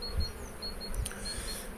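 Honeybees buzz around an opened hive in a low, continuous drone, with a few individual insects passing close by in brief swells.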